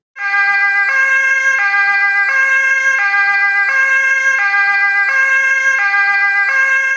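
An ambulance siren wails close and loud, its two-tone pattern alternating steadily and repeatedly without pause.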